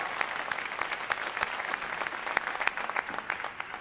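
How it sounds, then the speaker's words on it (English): A large crowd of families applauds at a U.S. Navy boot camp graduation at Recruit Training Command Great Lakes, a steady dense wash of clapping at a distance with no talk over it. "I want to give you a round of applause for supporting your sailors"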